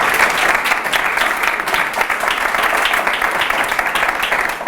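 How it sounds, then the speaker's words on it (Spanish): An audience at a public-speaking talk gives a big, sustained round of applause, dense clapping filling the room from start to finish. "hacedme un aplauso muy grande para animarme"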